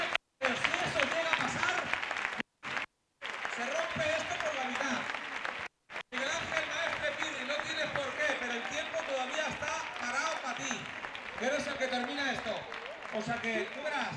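An outdoor crowd at a bull-running event in Medina del Campo applauds in sustained, dense clapping, broken by a few short cuts, while commentators talk over it.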